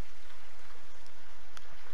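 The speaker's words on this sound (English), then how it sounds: "it's raining now" Rain falls in the video game Tomb Raider Definitive Edition as a steady, even hiss of drops that holds for the whole stretch with no voices over it.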